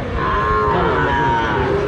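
Cattle low at a Jaipurhat calf market, a long sustained moo with harmonic bands held loud and close across the whole moment, no one speaking over it.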